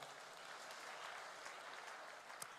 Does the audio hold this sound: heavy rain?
no